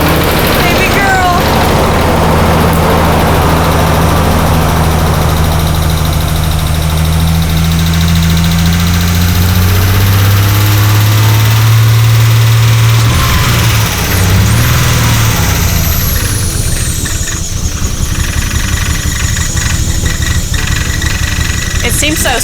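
A twin-turbo Nissan 300ZX engine runs loud and close, its deep rumble shifting from revving down into a rough, uneven idle, while people talk over it.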